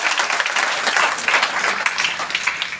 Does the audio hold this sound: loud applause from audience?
yes